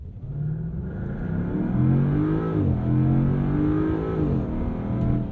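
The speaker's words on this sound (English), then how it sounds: "I'm just going to floor it without brake boosting it" A 2022 Land Rover Defender 90 with a V8 launching at full throttle from a standstill, its engine rising loud and close through the gears with clear shifts, climbing steadily and without any voices.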